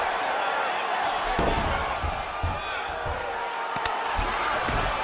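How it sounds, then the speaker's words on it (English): A roaring crowd fills the background steadily in the EA Sports UFC 4 video game, with occasional thuds and smacks of punches and hooks landing and swells of cheering. "you can hear the crowd reaction every time he lands another hook"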